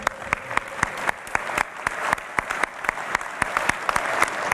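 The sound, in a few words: applause for the Chapecoense club president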